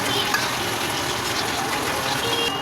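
Loitta fish curry with potatoes being stirred in a pot, a continuous close sizzling and bubbling with wet scraping, steady throughout.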